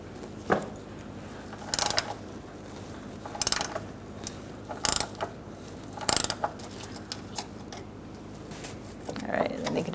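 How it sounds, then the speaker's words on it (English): A ratchet wrench fitted with a 12mm socket loosens a bracket bolt during rear parking brake cable replacement on a 2002-2006 Honda CR-V, giving several short bursts of clicking spread across a quiet garage background. "I'm going to use a 12mm ratchet wrench to get this bolt out for the bracket."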